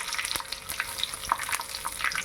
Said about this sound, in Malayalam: കടുകും ഉലുവയും പൊട്ടിയിട്ടാ.